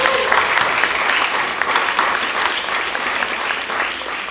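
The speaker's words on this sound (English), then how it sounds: "If we can give him a round of applause" A school board meeting crowd gives sustained, dense applause for the new Elizabeth Education Association president, steady and fairly loud from start to finish with a faint murmur of voices beneath.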